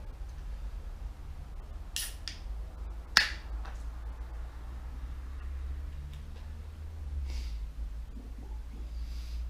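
Quiet room with a low hum, then a few sharp clicks and a crisp snap-hiss as the cap is pried off a bottle of extra pale ale, followed by faint fizzing.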